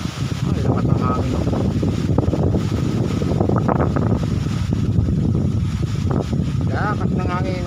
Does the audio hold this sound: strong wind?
yes